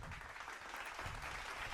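Steady applause from a seated audience at a design talk, welcoming a speaker onto the stage, heard faint and continuous without a break.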